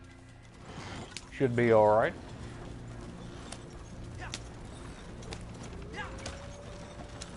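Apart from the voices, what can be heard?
horse and carriage hooves in a video game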